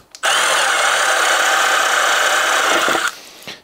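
A power drill runs loud and steady for about three seconds of pilot drilling fixing points in a shed, then cuts off, leaving a faint clunk afterward.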